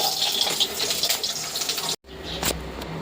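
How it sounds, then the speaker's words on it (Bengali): Hot water is poured into dal (lentils) cooking in a home kitchen. A loud, close, continuous splashing stream breaks off briefly, then resumes more lightly with a few splashes, and no voices. "এখানে ডালে একটু জল দেবো আর কি, তো একটু গরম জল করে নিয়েছি।"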